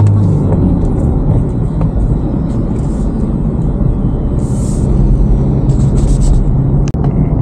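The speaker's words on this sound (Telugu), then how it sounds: "చూడండి ఎన్ని ట్రక్స్ ఉన్నాయి, అసలు విపరీతంగా వస్తున్నాయి." Heavy trucks pass along a hilly ghat road in a loud, continuous low rumble of engines and tyres, with a sharp click near the end.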